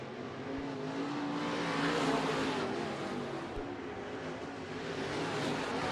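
The 15B race car roars past at Bakersfield Speedway during a heat race, its engine swelling to a loud peak and then fading back to a distant drone.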